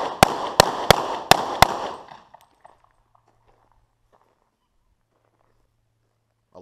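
Five sharp .40 caliber pistol shots crack at a shooting range in quick, evenly spaced succession, loud and close, then fade into near silence with faint handling noises.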